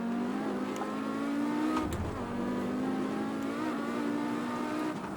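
An Audi Quattro rally car accelerating on the Nurburgring, its engine note rising steadily in a continuous loud drone, with a brief dip and a clunk before it climbs again.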